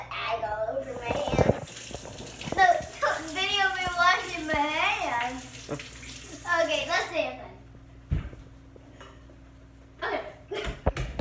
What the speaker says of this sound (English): now I need to wash my hands because, like, I got egg all over my hands